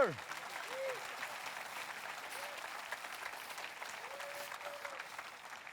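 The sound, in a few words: audience applause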